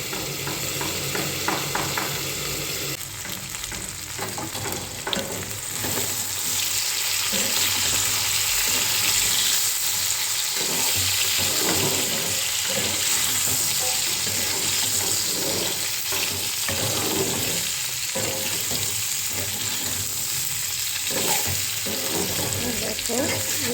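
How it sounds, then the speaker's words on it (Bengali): Vegetable stalks fry in a pan with a steady loud sizzle and repeated stirring scrapes, running continuously at close range without talk. "দেখো লাল হয়ে ভাজা ভাজা হয়ে গেছে, ডাটাও ভাজা হয়েছে।"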